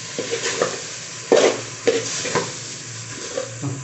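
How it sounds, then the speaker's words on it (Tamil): Okra frying in a frying pan, a continuous sizzle punctuated by several sharp stirring scrapes, close and moderately loud. "ஃப்ரை பேனில் வந்து வெண்டைக்காய் முதல்ல ஃப்ரை"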